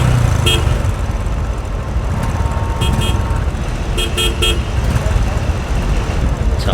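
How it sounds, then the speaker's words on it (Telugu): Dense road traffic makes a loud, constant engine rumble. Several short car horn toots sound in quick bursts, some close together, against the continuous roar. "షిట్, ఏంట్రా ఈ ట్రాఫిక్?"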